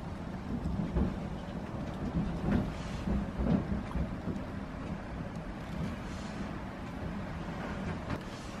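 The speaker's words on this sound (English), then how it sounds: "I don't know if you hear the wind that's howling outside." Wind howls outside during a cold winter storm, a steady broadband roar with gusty swells and occasional low rumbling thumps, heard from indoors with no talking.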